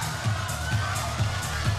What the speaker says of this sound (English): this is the first time I've seen even the crowd kind of get into it a little bit